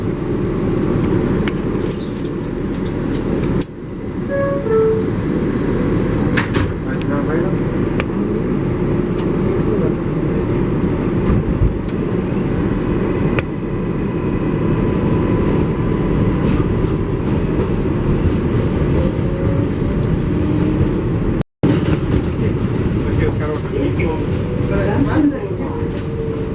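A New York MTA 7 local subway train bound for Flushing Main Street rumbles along the tracks with a loud, continuous roar, squeals and clatter, and a brief cutout partway through. A voice speaks over the noise.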